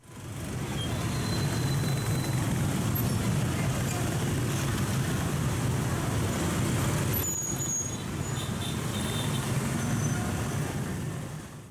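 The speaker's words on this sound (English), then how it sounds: "Thousands of vehicles pass by every morning." Dense, continuous roar of morning road traffic passing a factory in an industrial city in Vietnam, with buses, cars and trucks rumbling steadily and a brief air-brake hiss partway through.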